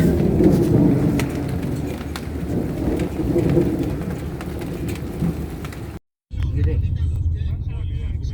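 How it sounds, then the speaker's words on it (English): Steady heavy rain from a storm in Greece roaring with low rumbling, continuous and loud, briefly cutting out before resuming. "Not like windy, it's just a bit stormy."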